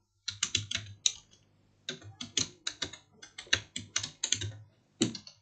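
Computer keyboard typing while VBA code is entered in Excel, a steady run of crisp close key clicks in quick bursts with short pauses and no talking.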